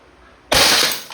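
A single sharp, loud shot from an Umarex SA10 CO2-powered airgun pistol, a sudden burst out of near silence that rings briefly and then decays.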